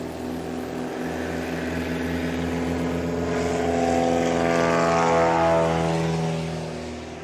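A Murphy Super Rebel STOL airplane with a normalizing-turbocharged engine drones loudly at a competition in Pinedale, Wyoming, its throaty propeller tone holding steady and swelling slightly as it passes near.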